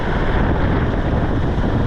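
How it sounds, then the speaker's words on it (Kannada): Strong wind in Jomsom, Nepal roars loud and steady into the microphone, a continuous broadband rush with no break. "ತುಂಬ ಗಾಳಿ ಐತಿ"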